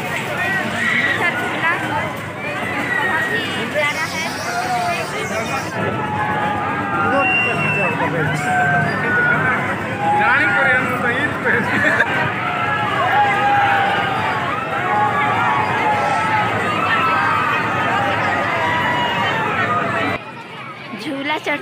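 Dense crowd hubbub at the Bagicha Mela fair in Jashpur, a long steady wash of many voices, chatter and fairground noise throughout, with someone talking over it up close.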